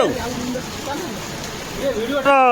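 Heavy rain pours down steadily in Chennai, a dense hiss running throughout while voices talk over it.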